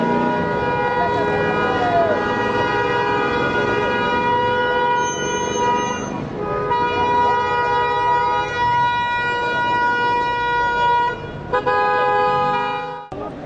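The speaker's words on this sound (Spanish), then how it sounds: "Los automovilistas que circulaban en ese momento hicieron sonar sus bocinas" Car horns blare in long, sustained, overlapping honks from drivers stuck in street traffic disrupted by protesters, loud and close, with brief breaks near the end.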